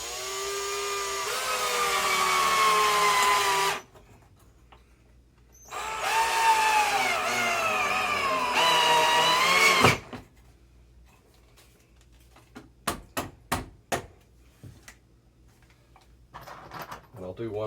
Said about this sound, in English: Screw it into the stud.